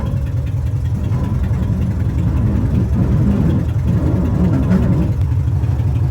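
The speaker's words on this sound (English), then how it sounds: "you're going to hear the front tires rub all the time" An air-cooled car engine drones loudly and steadily from inside the cabin, with rough low-pitched rumbling and scraping throughout as the front tires rub on the body, no voices.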